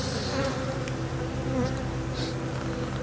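A steady, close swarm of bees hums loudly around an open beehive, a thick continuous drone with individual insects whining past.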